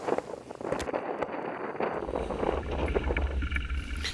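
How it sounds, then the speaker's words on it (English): Strong gusting wind of about 24 knots buffets a sailboat beating hard to windward, a steady roar of wind and rushing water with rumbling low-end gusts, close and loud with no talking. "The wind feels like it's increased a little bit more now."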